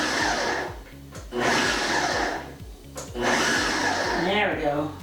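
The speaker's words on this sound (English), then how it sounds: "So I'm gonna do the pulse so I can take it slow and pulse it, and then I don't over mince it." A kitchen blender run in short pulses to mince pico de gallo ingredients, three loud whirring bursts with brief pauses between, ending in a slowing whine as the blade spins down.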